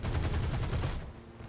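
Machine guns of a P-38G fighter fire in the flight game War Thunder, a rapid rattling burst for about a second that then stops, leaving engine drone.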